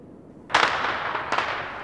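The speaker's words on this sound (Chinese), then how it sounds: "这是啊度假村的人在放鞭炮。" Firecrackers are set off near a resort, giving a sharp loud bang followed by a fainter second crack that trails off into a lingering rumble. No one speaks.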